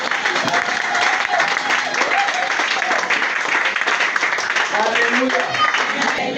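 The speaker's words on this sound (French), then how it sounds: "Acclame Jésus très fort" A church congregation applauding and cheering for Jesus during a prayer service, dense sustained clapping with crowd voices and shouts mixed in, loud and continuous throughout.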